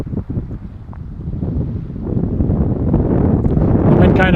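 Strong wind gusts in the backcountry buffet the microphone with a rushing roar that builds and surges, drowning out any other sound.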